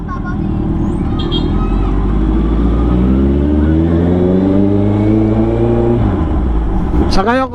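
A big bike motorcycle engine rumbles close and loud, its pitch rising and falling as the throttle is blipped in a long rev that climbs and then drops off, under a voice talking on a Laguna city street.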